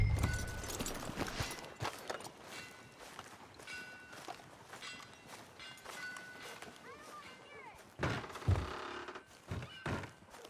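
Horse hooves from Red Dead Redemption 2 thud and clop in an irregular walking rhythm, moderately close, mixed with game sounds and talk, with a louder burst of hoofbeats near the end.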